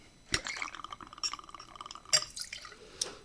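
Whiskey poured over ice in a glass during cocktail preparation, with sharp clinks of ice cubes and a trickling liquid splash between them, close and clear.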